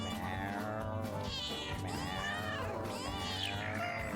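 Cats meowing in the video game Cat President, several drawn-out, rising and falling meows in succession over a steady low game soundtrack, fairly quiet and without speech.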